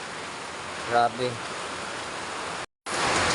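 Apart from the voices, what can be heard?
heavy rain pouring, flooding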